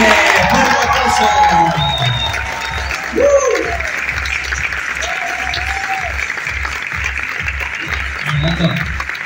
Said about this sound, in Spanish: vamos a recibir con un fuerte, fuerte aplauso a Alto Martínez